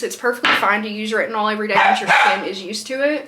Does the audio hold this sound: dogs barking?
yes